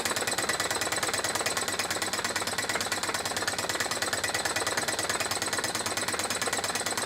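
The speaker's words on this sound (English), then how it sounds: "This engine seemed to have stabilized its speed now." A Wilesco H 110 toy steam engine runs steadily at a settled speed, giving a fast, even mechanical chatter of rapid piston beats that stays loud and continuous throughout, with no voices.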